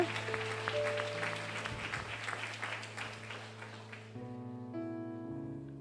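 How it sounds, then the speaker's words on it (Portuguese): A church congregation claps and cheers during a sermon, a dense, steady burst of applause over sustained keyboard chords that fades out after about four seconds, leaving the music playing alone. "Não vai aplaudir a Deus, não?"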